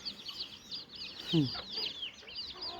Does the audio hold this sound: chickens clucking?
yes